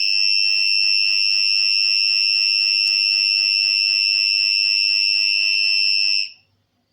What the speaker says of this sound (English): That's the sound of the buzzer.